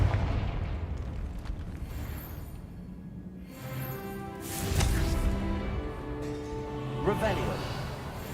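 In Hogwarts Legacy, a Confringo blast spell goes off with a deep, rumbling explosion that swells and fades amid game sound effects and background music, followed by a second burst.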